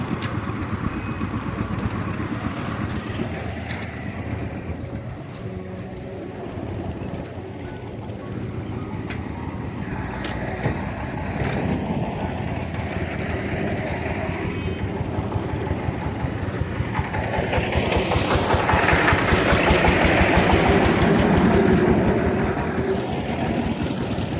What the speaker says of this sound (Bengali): পাওয়ার টিলার নাম আছে আমার রাজ্জাক ভাই।